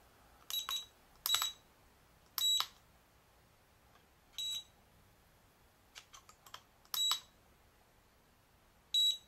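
A CX-10 mini drone in flip mode gives short, bright electronic beeps in irregular bursts, some doubled, with quiet pauses between them and no talking.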